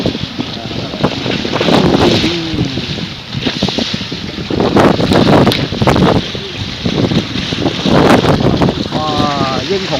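A boat motors on open water carrying a group back aboard, its engine drone blended with steady wind buffeting the microphone and lapping waves, while several people talk and call out over it throughout.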